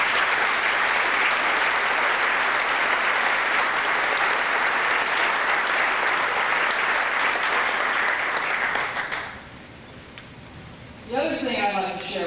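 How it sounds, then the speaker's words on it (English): Applause from an audience at a 75th anniversary celebration, honoring the Knights of Columbus, a dense sustained clapping wash that runs loud for about nine seconds, then drops away to quiet before a voice begins speaking. "Daniel McGinley and his staff and the Knights of Columbus deserve a round of applause"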